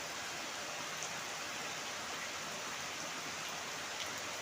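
Heavy rain pours steadily on a garden of fruit trees and vines, a dense, even hiss with no letup, fairly loud and close, with no voices.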